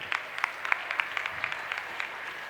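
A small stage audience claps in a sparse, fairly quiet burst of separate hand claps to welcome a Wonder Book of World Records coordinator onto the stage at a world-record dance event.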